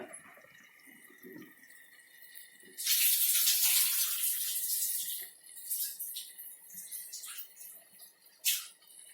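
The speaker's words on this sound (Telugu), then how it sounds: "నీళ్ళు మరుగుతున్నాయి, బియ్యం వేస్తా." Rice is tipped into a pot of boiling water for aloo dum biryani, making a sudden loud rush of splashing that settles into softer bubbling and watery gurgles.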